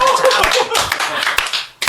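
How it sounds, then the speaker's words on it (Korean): Quick bursts of hand clapping from a small group in a radio studio, close and brief, rising and fading over a couple of seconds with a voice speaking over it. "이런 건 박수 쳐줘야죠"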